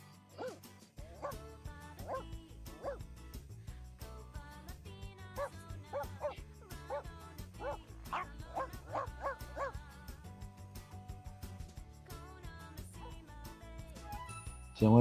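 A dog in The Sims pet story game gives a run of yips, barks and whimpers, moderately loud and close, with short busy calls packed together across the stretch and a soft game soundtrack underneath.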